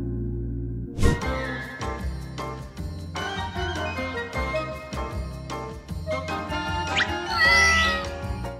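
A cat meows several times, with short, rising cries mixed among other sounds and what seems to be music, moderately loud and close.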